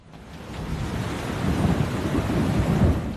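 Rain falls in Chennai ahead of Cyclone Nivar, a dense steady hiss of rainfall with a low rumbling undertone that builds gradually in loudness.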